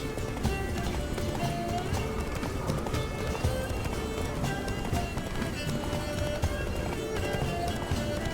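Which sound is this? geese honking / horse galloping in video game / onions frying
horse galloping in video game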